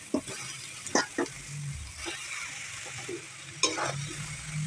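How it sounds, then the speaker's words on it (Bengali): Spices and shola kochu (taro) stirred in a frying pan, with a soft continuous sizzle broken by several sharp scrapes and knocks of the spoon against the pan, in a quiet village kitchen. "ভালো করে মশলাটা নাড়িয়ে দিলাম।"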